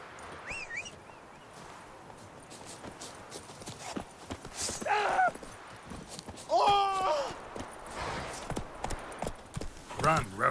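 Horse Roach galloping in The Witcher 3, quick rhythmic hoof clip-clops throughout, with a few short whinnies and game sound effects over the steady hoofbeat rhythm and talking at times.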